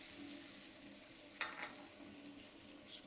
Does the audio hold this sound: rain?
no